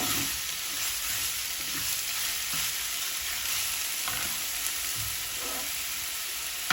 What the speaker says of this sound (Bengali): পেঁয়াজটা নরম না হওয়া পর্যন্ত ভেজে নিব